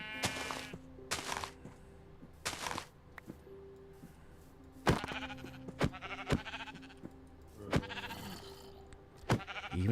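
Sheep bleat repeatedly inside a live-streamed survival video game, several loud separate calls spread across the stretch with short gaps between them, over faint background game noise and thunks.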